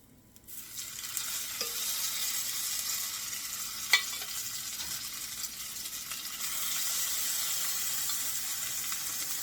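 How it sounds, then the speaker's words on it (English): Vegan papaya salmon sizzles steadily in a hot skillet with fresh garlic, a continuous bright hiss settling in after a quiet start, broken by a couple of brief clicks and growing a little fuller near the end. "I'm going to take my papaya salmon and put it inside of the skillet"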